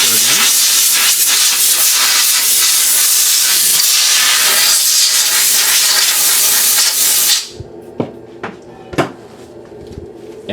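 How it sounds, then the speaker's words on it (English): Compressed air blasting onto a YSI sonde conductivity sensor for cleaning, a loud continuous close hiss for about seven seconds that cuts off abruptly, followed by a few light knocks and handling clicks. "we blow it with the compressed air"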